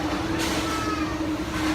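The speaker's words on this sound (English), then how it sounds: "Yeah. We're on the train." Inside a moving passenger train, a steady rumbling hum fills the carriage with a constant low drone and rolling noise, close and continuous with no talk.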